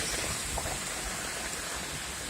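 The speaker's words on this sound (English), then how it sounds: "It's gonna stop raining in a minute." Steady rain pours outdoors, a dense even hiss with no distinct drops, moderately loud and continuous with no talking.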